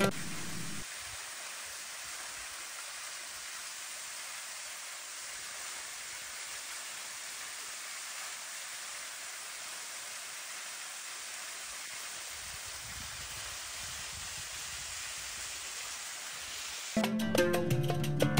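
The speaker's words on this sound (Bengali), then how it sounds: "যেহেতু ঝর্ণা দেখাচ্ছি, ঝর্ণার আওয়াজটা একটু আপনাদেরকে শোনাই" A waterfall in the Bandarban hills pours with a steady, full rushing roar that holds continuously and loudly for the whole stretch.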